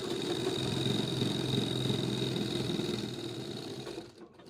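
A sewing machine runs a fast, steady whirring stitch while sewing a pocket onto cloth for ladies' trousers, then slows and stops near the end.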